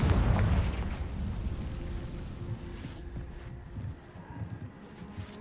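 A Confringo spell explosion in the Hogwarts Legacy video game: a loud, deep blast bursts at the start, then rumbles and decays into a fading tail with small crackles, and no talk over it.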